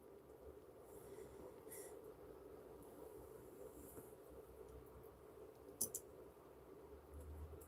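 A train rumbling by far off, a low steady drone with a faint squeal and clicking near the end, quiet and distant throughout.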